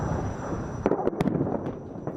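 Explosions from Israeli airstrikes hitting Tehran on a Sunday morning: several sharp, booming bursts rise over a continuous low rumble, with a cluster of blasts in the middle of the stretch.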